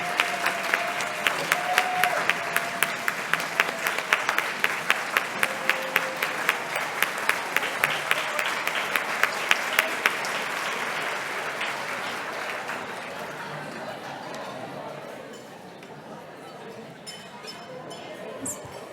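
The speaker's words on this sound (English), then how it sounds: "Let's give them a round of applause." A standing crowd at a 4-H House 85th reunion bursts into loud, sustained applause with scattered rhythmic clapping and a clink of glass, fading gradually after about twelve seconds while voices murmur underneath.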